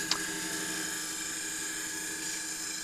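Elm wood spinning on a lathe while a skew chisel is held as a negative rake scraper, giving a steady, close, high-pitched whine and whir with a brief sharp tick near the start.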